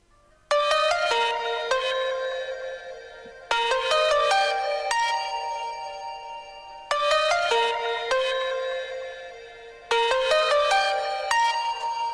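A bright melodic synth phrase for the second half of an electronic drop repeats four times, bell-like plucked notes in a rising pattern, clean and loud with no other sounds.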